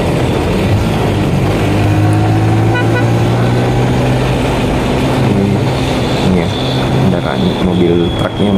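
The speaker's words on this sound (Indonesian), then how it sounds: "Mobil truknya muat sawit ya." A truck loaded with oil palm fruit passes on a road in East Luwu, Sulawesi, with a loud continuous engine drone and road rumble, recorded from a moving vehicle alongside other traffic.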